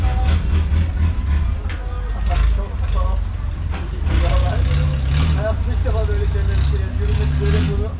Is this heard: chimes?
no